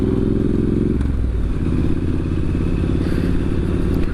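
A Triumph Street Scrambler 900 motorcycle being ridden on a warm June day, its engine a steady loud rumble with a low throbbing drone and some wind and clatter throughout.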